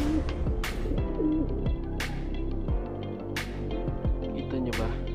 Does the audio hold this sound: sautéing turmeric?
no